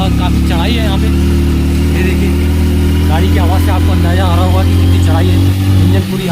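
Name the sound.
motorcycle engine straining up steep hill in low gear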